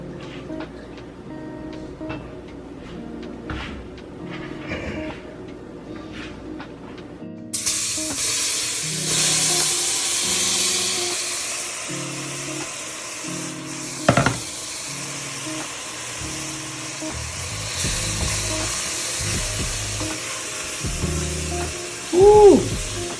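Peppers, onions and celery hiss and sizzle steadily after being dropped into a hot gumbo pot, with a broad frying hiss that starts abruptly and holds, broken by a few clanks and stirring knocks.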